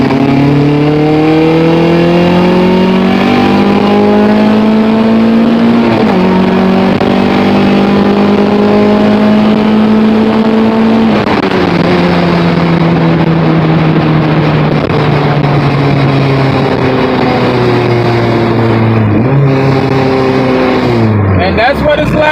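Honda Civic EK with an H22 engine accelerating hard in third gear, a loud continuous engine note climbing steadily in pitch with brief dips at each throttle lift, heard from close up inside the car.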